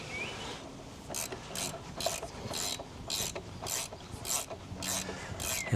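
A torque wrench clicks and ratchets while tightening a motorcycle wheel axle to 54 Newton meters, making a steady run of about a dozen evenly spaced, bright rasping pulls close up in a quiet workshop.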